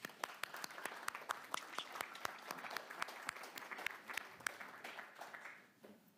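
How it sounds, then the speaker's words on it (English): A modest panel-discussion audience claps for a simultaneous interpreter, scattered distinct hand claps forming light applause that thins out and fades near the end. "Warm applause to you."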